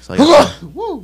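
A single loud sneeze bursts out during a studio wrestling talk show, then a short voiced exclamation follows straight after it.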